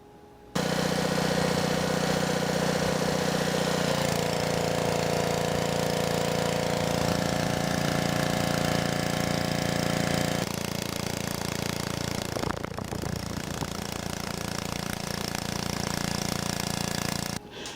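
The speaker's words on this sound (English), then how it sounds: "I actually got to see the pressure washer in action" Troy-Bilt pressure washer with a Honda GC160 engine and a leaking pump head running close by, a loud continuous engine drone with a pump whine, steady throughout with slight shifts in pitch.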